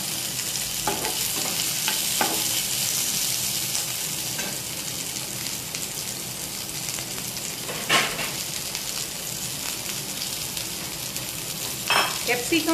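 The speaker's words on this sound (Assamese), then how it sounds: "এইখিনি অলপ জাষ্ট ছ'টে কৰি লওঁ" Onion and capsicum sauté in a pan, giving a constant loud sizzle broken by occasional scraping bursts of stirring, with no speech.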